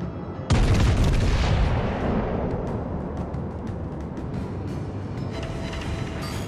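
A heavy naval gun blast from a warship in World of Warships: Legends booms suddenly and loudly, then fades into a long rumbling decay over a steady low engine and sea drone.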